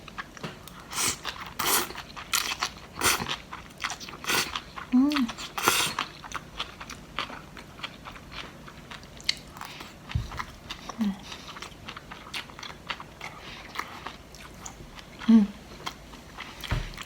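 Crunchy vegetables being bitten and chewed up close, a string of crisp sharp crunches in irregular bursts, with soft talking in between.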